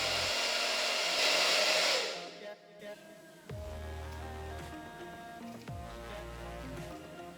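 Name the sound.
hair dryer on cold setting drying lace front wig cap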